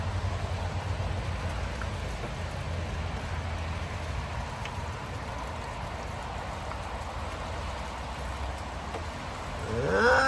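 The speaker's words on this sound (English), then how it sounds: "lightning storm of the year" Rain pattering steadily during a lightning storm in Fort Collins, Colorado, a continuous wash of drops at moderate volume, with a brief louder swell at the very end.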